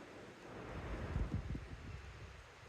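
Strong wind buffets and rumbles low against the microphone under a cloudy sky, rising in gusts in the middle and easing again, faint and with no voices.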